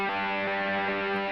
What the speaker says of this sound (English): he's going to go to the bridge pickup, and he's going to put on an additional distortion